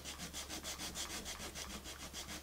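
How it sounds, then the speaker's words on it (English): Rhythmic back-and-forth rasping of sandpaper on painted wood, close and steady, about five strokes per second with no talking. "I'm going to keep sanding at it, right?"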